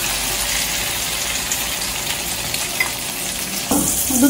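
Eggplant omelette (tortang talong) frying in a pan, a steady close sizzle with crackling oil throughout and a louder bubbling burst near the end.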